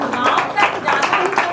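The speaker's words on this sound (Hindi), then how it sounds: "ताली बजा दो जोर से" An audience at a Hindi spiritual discourse claps loudly and steadily, a dense patter of many hands that continues throughout with voices mingled in.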